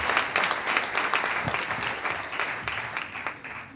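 Audience applause at a debate between social centres and municipal candidates in La Rochelle, a steady crowd clapping that fades gradually over a few seconds.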